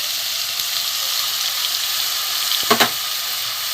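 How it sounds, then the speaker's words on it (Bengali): Vegetarian spice paste with salt, turmeric, cumin and coriander powder fries in a pan, giving a steady close broadband sizzle with a couple of brief louder spits near the end. "এখানে নুন, হলুদ, জিরে, ধনে গুঁড়ো মশলাটা আমি এতে দিয়ে দেবো।"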